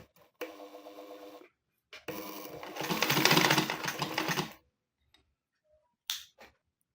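A domestic sewing machine fitted with a quilting foot runs forward and then reverses in two separate bursts of motor whir and needle clatter, with silent pauses and a short final click.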